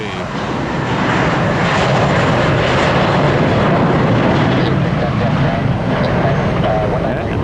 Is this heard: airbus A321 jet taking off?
yes